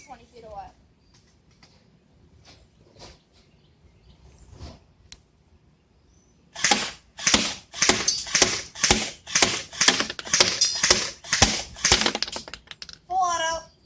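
A Pulse R76 airsoft gun fires full auto from 20 feet away, a rapid run of about a dozen sharp, evenly spaced clacking shots after a quiet stretch, with a voice briefly at the end.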